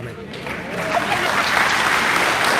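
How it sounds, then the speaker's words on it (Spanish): Church audience applauds two pastors after a debate, the clapping building quickly into a loud, dense burst that holds steady to the end. "aplauso fuerte que se oiga para estos hermanos"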